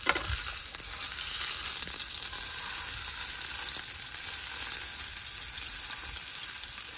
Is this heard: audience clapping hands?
no